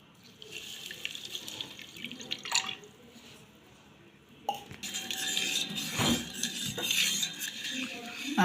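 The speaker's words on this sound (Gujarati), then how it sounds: "હવે એને આપણે હલાવીને એકદમ ગોળ ઓગાળી દઈશું" Jaggery stirred in water in a metal pot makes sloshing water and repeated spoon clinks and scrapes against the vessel, growing busier and louder in the second half, with no one talking.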